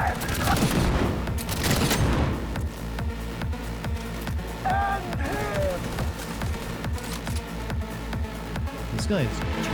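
Rapid bursts of game gunfire from Cyberpunk 2077 Phantom Liberty crackle through the fight, loud volleys early then steady repeated shots, mixed with game sound effects and a person talking over it.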